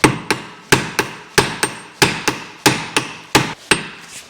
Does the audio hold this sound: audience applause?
no